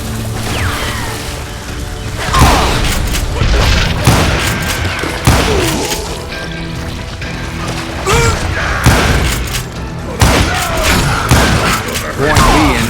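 Gunfire in the Wild West shooter Call of Juarez: Gunslinger, with dense bursts of shots and thuds layered over game music and effects, loud and sustained throughout.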